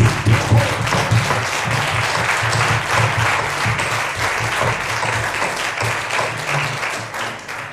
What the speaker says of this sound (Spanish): can't we just give Jesus a big hand one more time